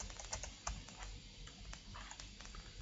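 Someone types an email address on a computer keyboard, tapping a quick irregular run of soft key clicks at low volume against a faint hum, with no speech.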